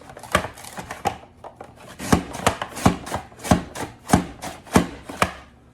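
Potatoes being cut into French fries on a board, with a steady series of sharp, close chopping knocks at an even rhythm, loud and alone.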